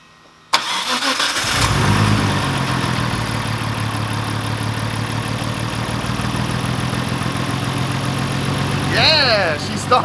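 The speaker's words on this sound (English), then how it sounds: "Let's start the car and see if it fires up." A Nissan R32 GTR with a newly fitted R35 coil pack kit cranks and fires, then settles into a loud, steady idle close by, with a voice cheering briefly near the end.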